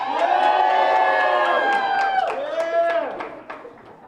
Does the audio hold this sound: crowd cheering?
yes